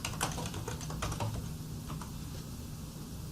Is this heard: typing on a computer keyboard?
yes